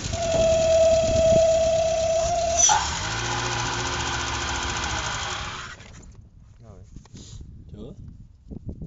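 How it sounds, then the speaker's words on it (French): A steady, high-pitched whistle from an engine air leak rides over the engine hum, shifting tone partway through before the noise fades into quieter background sounds. "Ce bruit de sifflet là, qu'est-ce que c'est?"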